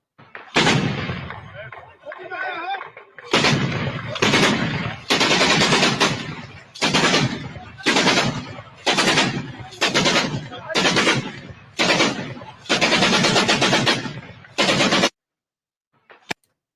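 Recorded gunfire from Syria comes as about ten loud, close bursts of rapid automatic shooting, each lasting around a second and separated by short gaps, ending abruptly before a brief silence.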